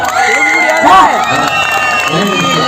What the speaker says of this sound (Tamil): எனக்காக எல்லாரும் ஒரு பெரிய கைத்தட்டில் கொடுங்க பார்ப்போம்